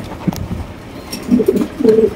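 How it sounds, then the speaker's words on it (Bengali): A pair of Crimbar King pigeons coo close by, giving a few soft, throaty coos that grow fuller toward the end, heard alone with light background rustle. "এখানে দেখতে পাচ্ছি আরো একজন চমৎকার কবুতর, ক্রিমবার কিং"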